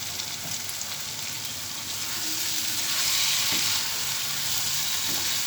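Cabbage and egg sizzle and fry in a pan with ghee, a steady close crackling hiss that swells slightly midway, with faint stirring and no talk.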